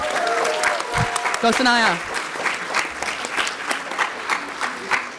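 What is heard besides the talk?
audience applause at film festival award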